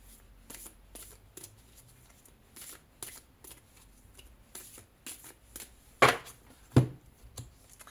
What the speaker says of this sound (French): Je vais tirer 3 cartes là pour le coup